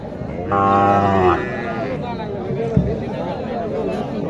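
A Sahiwal-cross cow at a cattle market lets out one long, deep moo close by, followed by people chatting in the background.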